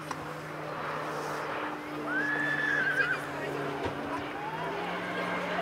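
At the 2013 Canoe Mountain Rodeo, a bucking horse lets out one drawn-out whinny, moderately distant, over a steady hum of arena noise and an announcer talking.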